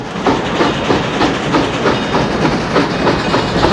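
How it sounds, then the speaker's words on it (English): A train in the 1997 PC adventure game The Last Express rolls along with a steady rhythmic clickety-clack of wheels over rail joints, loud and continuous throughout. "Sounds like there are train things happening."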